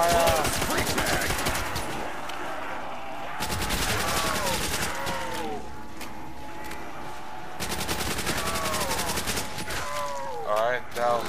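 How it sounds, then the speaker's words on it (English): Sustained rapid-fire gunshots blast in dense bursts during a Call of Duty Black Ops zombies match, loud and continuous with brief pauses, mixed with game effects and voices. "now aim down the front and fire"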